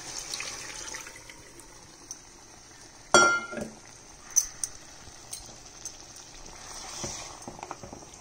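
Water goes into a cooking pot of goat leg soup with drumsticks in a short splashing burst, followed by a few light clinks and quiet kitchen sounds against a low background.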